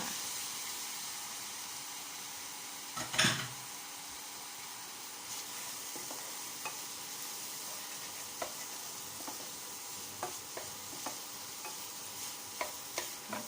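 Pork fries in a pan for pad see ew with a soft, steady background hiss. One loud burst of sizzle comes early, and faint scattered pops and ticks are spread through the rest.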